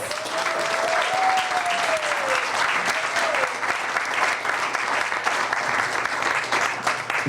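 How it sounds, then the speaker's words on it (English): A conference audience gives a sustained round of applause for the panelists of a men's discussion Q&A. The clapping is dense and steady, with a voice audibly talking over it near the start. "let's just give a round of applause for our wonderful panelists"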